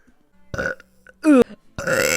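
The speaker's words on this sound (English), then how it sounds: "Oh, I just burped." A VTuber lets out a short, voiced burp, loud and close, set between other brief vocal sounds.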